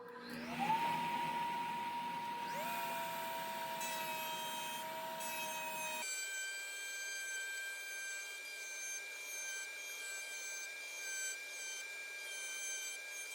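A Grizzly G0944 1.5 HP wall-mounted dust collector runs with a strong suction roar and rising whine while wood is cut for about six seconds, then the noise drops away and steady tones remain.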